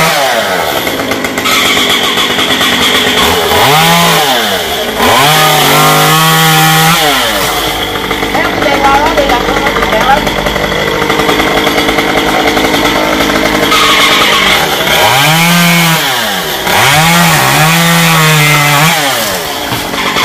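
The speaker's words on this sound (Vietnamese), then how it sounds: "gồm có ba của Hoa, chú Đường và anh Hiền cùng cưa cây me này" A chainsaw runs loud and close, its engine revving up and down repeatedly as it cuts into a large tamarind tree, with no talking.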